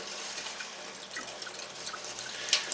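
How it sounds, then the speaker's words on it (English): Water trickles and drips from the outlet of an ITEHIL ITS 100G-HW water purification system, a faint, close, irregular patter of drops over soft running water. "So I can see that the water is slowly coming out of here, and here comes our drinking water."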